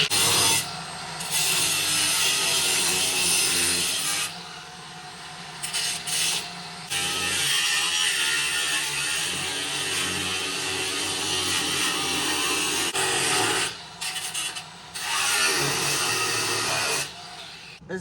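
A power tool cuts away the drip rail on an 1980s bullnose Ford F-150 race truck, a loud, continuous rasping grind that runs in long bursts with brief pauses between cuts.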